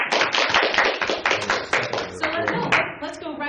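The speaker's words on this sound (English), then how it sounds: "we need some applause" Brief applause from a small audience at a law teaching session, a quick burst of overlapping claps that thins out as voices and laughter rise alongside it.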